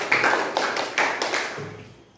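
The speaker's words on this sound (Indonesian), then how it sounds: "tepuk tangan buat Arifin" Short burst of classroom clapping for a student during a teaching session, a few people applauding together for about a second and a half before it trails off into quiet.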